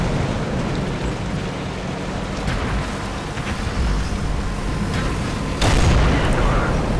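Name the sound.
tank cannon firing at enemy T71 in World of Tanks video game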